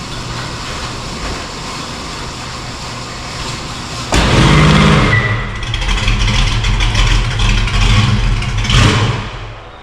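A Chevrolet squarebody pickup inside a garage, first a low idle, then a loud start-up and engine revving as it pulls out, with rumbling and clanking throughout.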